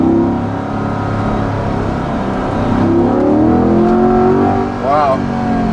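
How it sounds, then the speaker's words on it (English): A 2020 Chevrolet Corvette Stingray 1LT convertible engine with a possible exhaust leak, loud and close, droning steadily and then rising in pitch as it accelerates, with a short shift-like dip near the end. "sounds like the engine has an exhaust leak or something."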